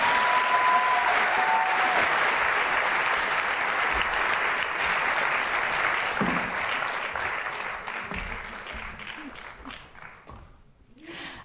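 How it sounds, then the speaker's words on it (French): Audience applause at an award ceremony during an inspiring business conference, a dense sustained roar of clapping that holds steady and then thins out and fades near the end. "Et encore un peu d'applaudissements pour les 2 dernières."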